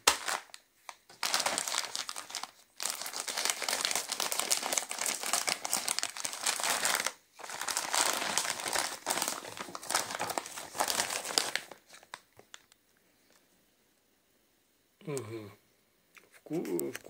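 A bag of king crab flavored baguette snacks is torn open: loud, close plastic crinkling and crumpling in long bursts with short pauses, then quieter rustling and a brief spoken voice near the end.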